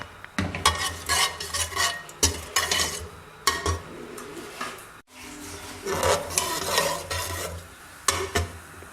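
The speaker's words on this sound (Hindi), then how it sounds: "अब इसमें 1 चम्मच ज़ीरा डाल देंगे। इसको इसके अंदर हल्का सा भूनेंगे।" Cumin seeds lightly frying in oil in a pot for Peshawari mutton karahi, with intermittent stirring scrapes and a soft sizzle, close and moderately loud, no talking.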